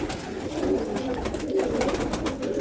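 Pigeons coo steadily inside a breeding loft, soft low throaty calls repeating close by against a continuous background murmur of the flock.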